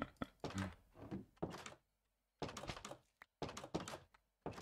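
Door taken away in Minecraft during Pixelmon play, giving a few short hollow thunks spaced across the moment, with quiet gaps between.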